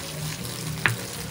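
Pounded spice paste sizzles in a pan as it is fried for a Sarawak-style fern and belacan stir-fry, a steady close hiss with a brief clink midway.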